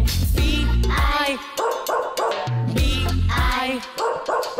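A dog barks and yips repeatedly in a loud, bouncy rhythm over a children's sing-along about a farmer's dog named Bingo, with the barks falling between sung lines.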